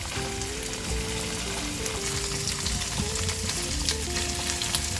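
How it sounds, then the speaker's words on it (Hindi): Paneer fries in a pan until golden, giving a continuous dense sizzle and crackle with a faint steady hum beneath, close and even throughout with no talking. "पनीर को हम गोल्डन होने तक फ्राई कर लेंगे।"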